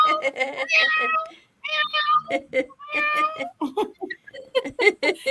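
A cat meows repeatedly in a run of drawn-out, tonal cries with short gaps between them, loud and close, mixed with bursts of human voices and laughter.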